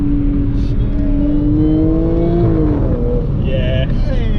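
A tuned Audi A7 3.0 TFSI accelerates hard from inside the cabin, its engine note climbing steadily then dropping at a gear shift and rising again, loud and close with people talking over it.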